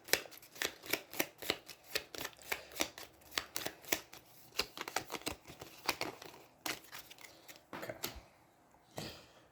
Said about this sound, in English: And then I get to shuffle Kadir's turn order card back into the deck.